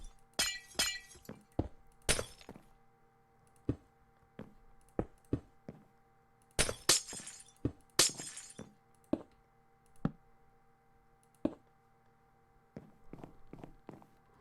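Glass-breaking sound effects in the video game Life in the Woods, triggered as the player steps onto glass: repeated sharp shattering crashes and clinks, some in quick clusters, separated by soft footstep thuds over a low steady background hum.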